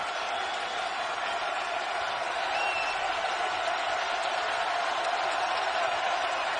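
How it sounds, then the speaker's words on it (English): A basketball home crowd in an LSU game against Tennessee roars and cheers in a steady, dense wall of noise that holds at an even level throughout, with no distinct voices standing out. "Home crowd rises on its feet."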